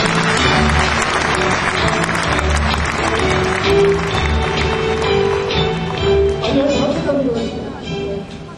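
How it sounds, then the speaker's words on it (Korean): An audience at a 2004 early entrance ceremony gives a round of applause for professors, loud and sustained, while an announcer's voice and music carry underneath, tapering off near the end. "박수 한번 부탁드립니다."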